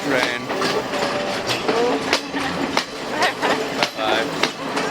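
Train pulling away from a stop near Ella, Sri Lanka, with loud rhythmic clickety-clack of wheels over rail joints and metallic squeals, close and steady throughout.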